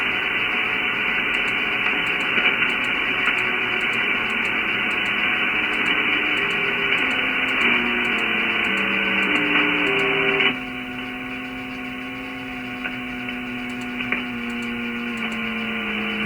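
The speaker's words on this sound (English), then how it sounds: "So the tone you hear is the RF signal coming out of this generator." Steady tone from an RF signal generator being tuned on a test bench, a continuous electronic whine with shifting pitch steps partway through as it is readjusted, then settling to a steady note, no voices.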